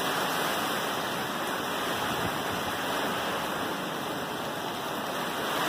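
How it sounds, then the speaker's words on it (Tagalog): Powerful Typhoon Ulysses wind howling over Angeles City, a thick unbroken rushing roar that stays loud and steady from start to finish. "Malakas itong hangin na to. Tinalo yung hangin ni Rolly."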